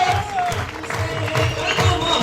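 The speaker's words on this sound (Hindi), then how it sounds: "आप जोरदार तालियों से, हो हुए से और नाचते हुए" Loud applause and cheering from a crowd at an RCM monthly seminar in Ahmedabad, a dense continuous roar of clapping with music playing underneath throughout.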